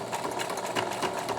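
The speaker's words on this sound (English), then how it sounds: "then you're going to sew the seam down" A sewing machine stitches down a seam on a fabric face mask, a close, steady rapid mechanical chatter with an even pulsing rhythm.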